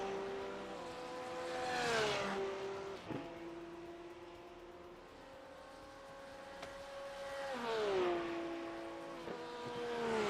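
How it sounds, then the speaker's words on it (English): GT3 race cars lap the Road America circuit, engines whining past one after another: a car swells in and fades with a falling pitch, another passes quickly, and a third climbs through its gears, all at middle distance without speech. "Got 8 cars out on track."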